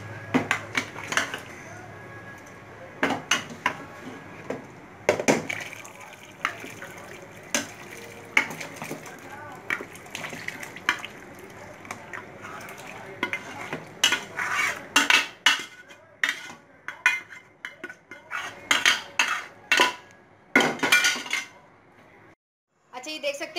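Beef trotters and stock go into a cooking pot for Lahori paya, with irregular clanks and knocks of pieces and utensils against metal, growing busier and louder toward the end.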